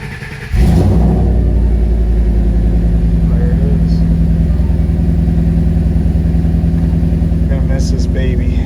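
A car that has sat unused for a month or two starts and settles into a loud, steady engine drone, close by, with a brief lead-in and faint clicks over the running engine.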